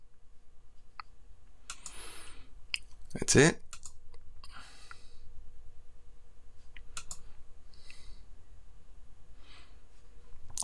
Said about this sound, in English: I am cutting from source to source simply by clicking on the different camera angles